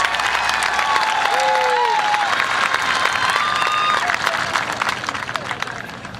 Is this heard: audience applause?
yes